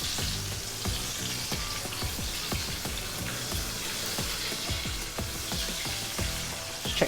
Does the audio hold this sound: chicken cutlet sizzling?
yes